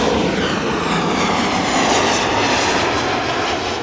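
An airliner approaches Amsterdam Schiphol Airport, its engines making a loud, steady roar with a rushing broadband wash that holds throughout, near and dominant with no talking.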